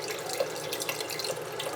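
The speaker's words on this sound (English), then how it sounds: "Water." Tap water runs steadily into a pot of navy beans set to soak, a continuous close splashing hiss with small drip-like bubbling accents throughout, heard alone without talk.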